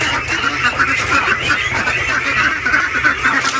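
Ducks in a pen quacking continuously, a dense overlapping chorus of nasal calls close by with a rhythmic low rumble underneath.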